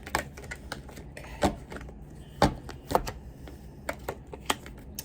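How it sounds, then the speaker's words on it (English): Tarot cards being shuffled by hand: irregular papery riffles and soft taps in scattered bursts, close by, with a brief spoken word partway through. "If you like to watch the shuffling, then welcome to the shuffle."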